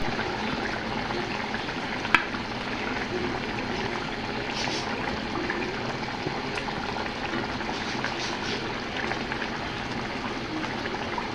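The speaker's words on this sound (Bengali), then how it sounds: "চুলার আঁচ কমিয়ে দিয়ে ঢাকনা দিয়ে ঢেকে ইলিশ মাছটা আমি 4 মিনিটের জন্য কষিয়ে নেব।" Hilsa fish cooking in a spice masala in a covered pan over low heat, giving a steady, soft sizzle and bubbling throughout with one brief sharp tick early on.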